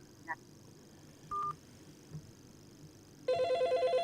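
Telephone sounds in a quiet room: a couple of short dialing-style beeps, then a loud repeating electronic telephone ring starting near the end, with faint background hiss between.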